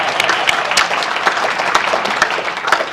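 An audience at an annual legislative meeting claps steadily and loudly, a dense, even round of applause from a room full of people.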